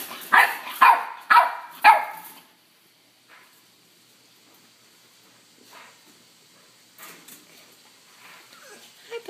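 Puppies give four sharp, close barks in quick succession, then fall to faint, soft whimpers and small sounds over a quiet indoor background.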